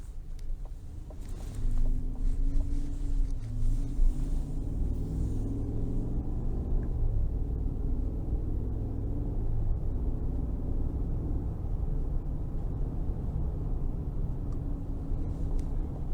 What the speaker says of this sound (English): next we're gonna go ahead and take it out on the road for a quick test drive